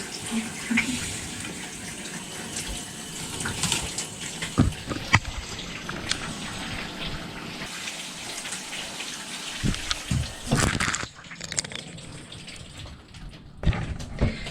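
Water runs steadily from a faucet in a small campervan shower, a continuous spray with scattered splashes and knocks, fairly close and moderately loud throughout.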